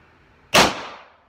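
One loud, abrupt report from an FSV Ghost PCP air rifle with a VKS bolt kit and quick-connect fill, a hard crack that decays over about half a second in otherwise quiet surroundings.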